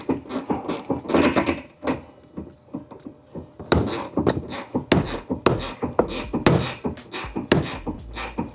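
A bolt is worked loose on the rear shock absorber of a Honda CR-Z, with close, loud ratcheting clicks and metallic clanks in quick bursts and short pauses, no talking.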